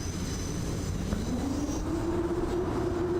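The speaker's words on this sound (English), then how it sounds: "And that is the train." A train rolls through a station without stopping in the SimRail railway simulator, giving a steady, loud rumble with a slowly rising whine throughout.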